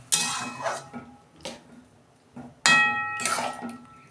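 A metal lid lifted off a pot of taro greens cooked with chickpeas and coconut, giving sharp close clanks and scrapes in a few separate bursts, with ringing metallic clinks between quiet pauses.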